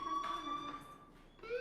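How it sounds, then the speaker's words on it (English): A school fire alarm rings in the video game Life Is Strange, a steady electronic tone with a higher pitched sweep rising near the end, heard fairly faintly with no voices. "do you hear that fire alarm?"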